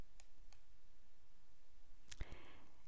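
A single sharp mouse click on an Edit Columns button in a web page editor, heard close and alone against quiet background, with a couple of faint ticks before it.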